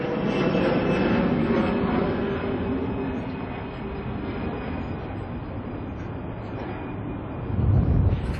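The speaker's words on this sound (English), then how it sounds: "here comes another airplane, so hold on 1 minute." Airplane passing low over Shea Stadium in New York, a loud, broad jet roar that holds steady, eases slightly, then swells again near the end, with no talking.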